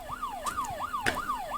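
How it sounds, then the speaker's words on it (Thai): A wailing police car siren in a horror video game sweeps up and down in quick repeated cycles, fairly faint, with a few short clicks and thumps over it. "เสียงรถตำรวจ"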